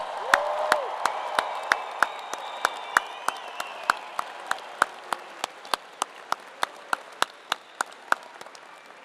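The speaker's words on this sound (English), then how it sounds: "Please join me in let's giving the class of 2025 a huge Penn State round of applause." Applause from the audience at a Penn State commencement ceremony for the Eberly College of Science class of 2025, a diffuse crowd wash with a few loud individual claps standing out in a steady rhythm, fading slightly over time.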